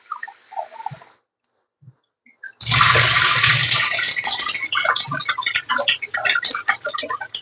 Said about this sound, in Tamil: சிக்கனை கொஞ்சம் கழுவி எடுத்துரு.